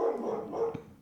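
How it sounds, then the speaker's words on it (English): Pet dogs bark indoors in short excited bursts, a couple of quick woofs and yips close by, ending with a sharp higher noise. "sorry about my dogs"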